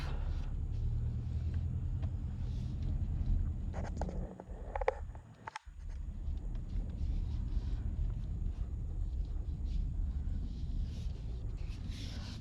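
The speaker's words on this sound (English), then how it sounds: "We'll go ahead and put it into drive. We're going to set off." A 2024 Toyota Tacoma SR5 with a turbo engine pulls away in drive, heard from inside the cab as a steady low engine and road rumble with a brief clunk partway through, no talking.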